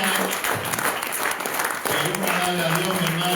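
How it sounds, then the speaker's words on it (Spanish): Applause from a church congregation offered to God, thick sustained clapping mixed with voices and a faint sustained tone running below. "No sé si le pueda rendir un aplauso al Señor"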